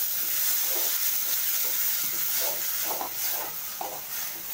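Tomato and capsicum sautéing in a pan with onion and chilli powder, a steady close sizzle and hiss with a few soft stirring knocks, no voices.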